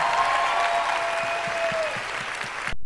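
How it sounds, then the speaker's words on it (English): A large convention crowd applauds at a Comic Con 2017 panel, producing a loud, continuous roar of clapping with a faint whistle riding on top before it cuts off abruptly. "give her a round of applause"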